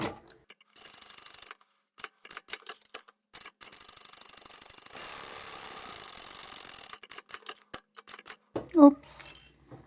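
A domestic sewing machine backstitches a wallet seam through fabric and interfacing, running close in short stop-start bursts, then a steadier stretch, with handling clicks and a brief louder clatter near the end.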